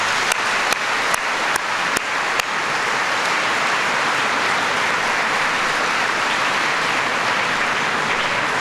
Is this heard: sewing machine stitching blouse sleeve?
no